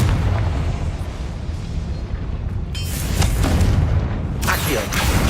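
A Confringo fire spell blast in Hogwarts Legacy: a booming, crackling burst that hits around the middle and flares again near the end over a rumbling game background, with a voice speaking the spell.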